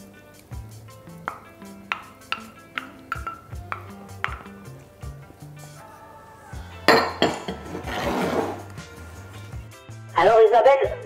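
Small pieces of smoked salmon are mixed in a bowl, with a run of light rhythmic clinks and scrapes of a utensil against the dish, then louder clattering, over background music with voices.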